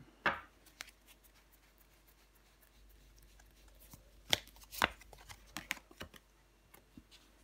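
Tarot cards are laid down and handled on a table, with soft sliding and flicking sounds and a few sharper slaps as cards are placed, close but quiet with no voices.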